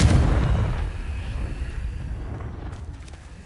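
The Confringo blast spell from the Hogwarts Legacy video game goes off as a single loud booming burst at the start, followed by a rumbling decay that fades over the next few seconds.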